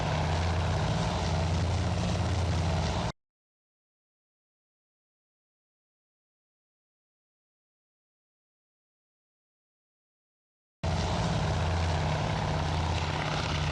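Propeller aircraft engines from the carrier warfare game Task Force Admiral: a steady, loud droning roar runs for about three seconds, cuts to silence, then returns near the end.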